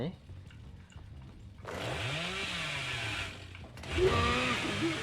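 A chainsaw in Dead by Daylight revs loudly in bursts, its engine pitch rising and falling, with game background noise and faint voices earlier.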